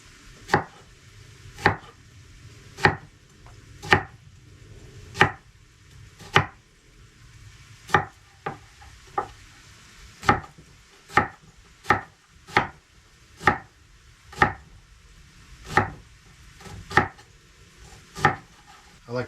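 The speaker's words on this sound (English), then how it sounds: "I like to chop the onions up super fine." A knife chops onions finely on a cutting board inside a tent heated by a wood stove, about twenty sharp, close knocks in an uneven rhythm, separated by brief quiet gaps, with no voices.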